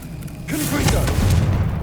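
A Confringo spell blast in Hogwarts Legacy, a short booming burst with a low rumbling tail that lingers for about a second, loud and close, with game voices talking over it.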